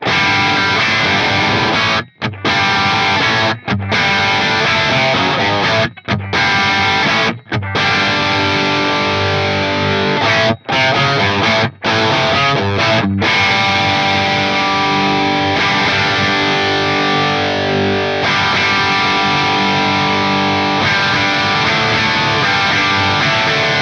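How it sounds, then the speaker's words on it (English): Distorted electric guitar runs through an FM3 cab block using the early reflections reverb algorithm, sustained chords ringing loudly with a few brief gaps between strums, playing alone with no talking. "this just uses the early reflections algorithm from the Reverb block"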